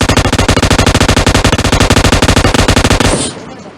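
Automatic gunfire in the PUBG Mobile battle royale game: one loud, even burst of rapid shots at a steady rate pours out for about three seconds, then cuts off and leaves a short fading tail.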